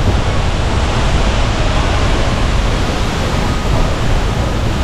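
Mother Falls in Baler sends up a loud, steady, broadband roar of falling water, continuous and close with no break, and no voices.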